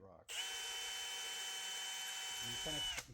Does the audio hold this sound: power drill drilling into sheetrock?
yes